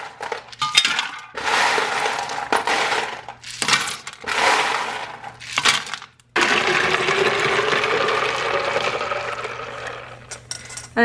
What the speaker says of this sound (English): I'm going to now fill with ice to about right here